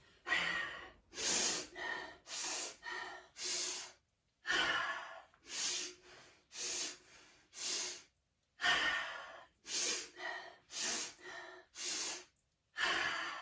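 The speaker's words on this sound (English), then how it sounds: "Inhale, inhale, inhale, exhale, inhale, inhale, inhale." Guided breathing exercise for calm: repeated rhythmic breaths, a run of three sharp inhales then an exhale, each breath a distinct burst separated by brief pauses, close and clear with no talking.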